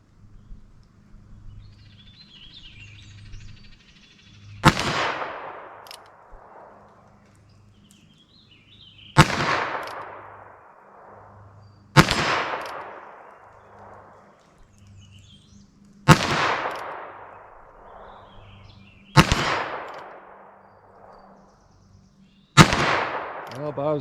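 A single-action revolver fires .22 Magnum CCI Maxi-Mag TNT in six sharp, loud shots spaced a few seconds apart outdoors. Each crack trails off into a short echo, with faint background noise between shots.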